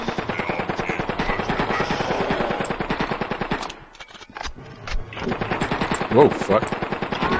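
Rapid automatic gunfire in the video game Blood and Bacon rattles in fast, dense bursts, pausing briefly mid-clip before resuming, with a player's startled exclamations over it.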